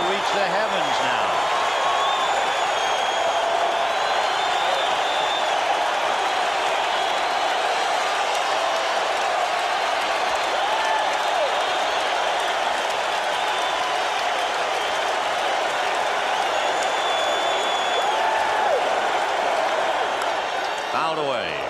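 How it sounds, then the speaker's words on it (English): A packed baseball stadium crowd roars continuously during Game 7 of the 1986 World Series between the Boston Red Sox and New York Mets, a dense sustained wall of cheering with faint commentary underneath. "And this crowd is really ready to reach the heavens now."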